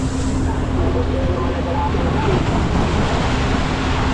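Heavy sea waves off Rapu-Rapu surge in a continuous loud roar, with wind buffeting the microphone, heard from close range on a boat.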